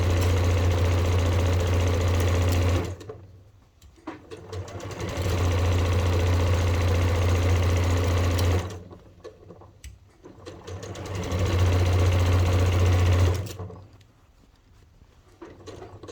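A sewing machine stitches a fabric bucket hat in three loud, close bursts of fast, even mechanical chatter, separated by short, quieter pauses.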